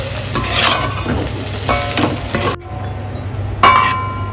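Dried fish curry stirred in a pan on the stove, a spoon scraping and clinking against the metal in several strokes over a steady sizzle, with a brief pause and then a sharp clink.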